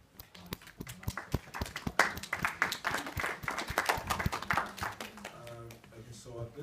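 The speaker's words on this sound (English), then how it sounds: "A round of applause for yourselves." Audience applause at a university engineering and computing faculty reps conference: a dense, steady patter of many hands clapping for several seconds, with some voices mixed in.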